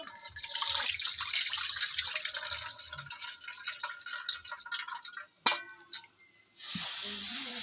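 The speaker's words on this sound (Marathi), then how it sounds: "परत एका पाण्याने धुवायचं" Mackerel pieces are rinsed in fresh water under a running tap in a steady close hiss, then a splash and clatter break in before the flow resumes.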